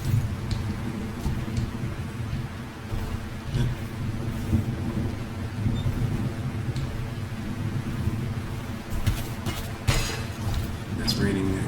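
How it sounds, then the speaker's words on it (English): Rain and thunder in a farming video game, with a steady hiss of rainfall and low rumbles rolling through the whole stretch while a voice speaks now and then. "It's raining again this quote-unquote next day."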